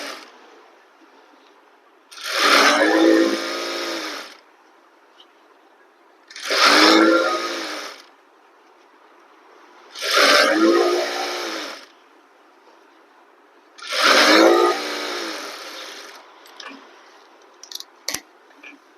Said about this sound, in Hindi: एक और सिलाई लगाएंगे इलास्टिक के बीचों बीच